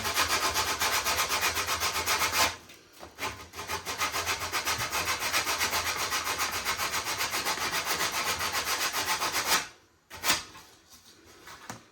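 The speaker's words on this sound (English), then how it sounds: "when you are sanding, just be careful how fast and how long you go for" Coarse P80 grit sandpaper rubs back and forth on wood, a continuous loud rasping scratch that pauses briefly near the start and again near the end.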